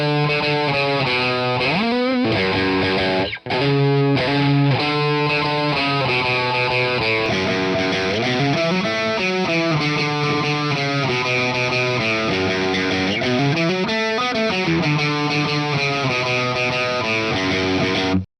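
Electric guitar riff through a GP-180 JCM-800 amp and cab model, recorded DI with no processing or noise reduction; thick, loud, continuous distorted chugging chords with one brief gap, alone.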